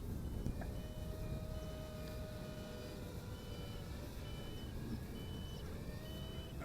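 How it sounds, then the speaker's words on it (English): Faint repeated electronic beeps from an RC Eye Xtreme V2 Vantage brushless FPV drone sound in short tones over a constant low background rumble, with no voices. "I got beeping, beeping, beeping going on here."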